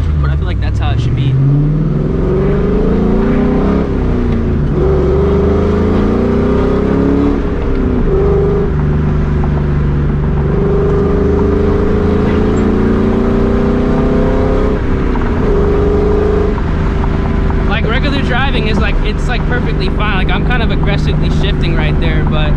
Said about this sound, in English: Regular driving, it's not bad, but when you get on it, it's loud.